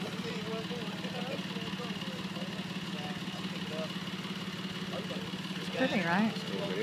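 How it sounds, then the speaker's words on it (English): A tractor engine runs at a steady, even idle-like hum through the whole stretch, with people talking over it and a voice rising briefly near the end. "That machine. Tractor."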